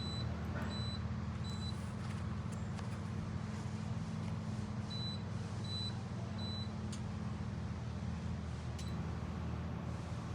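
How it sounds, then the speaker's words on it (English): A power inverter overloaded by a shop vacuum sucking up ash beeps in short repeated high tones over the vacuum's loud, steady motor drone. "all that beeping here is the inverter crying that it's in overload"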